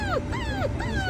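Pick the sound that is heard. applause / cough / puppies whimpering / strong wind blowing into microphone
puppies whimpering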